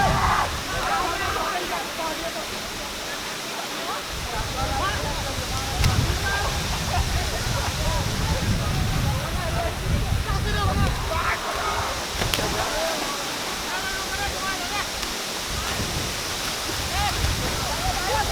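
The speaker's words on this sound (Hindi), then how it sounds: "झरने बहुत पावरफुल है।" A powerful hidden waterfall in Koderma, Jharkhand, roars as a loud, steady broadband rush close by, with someone talking over it at times.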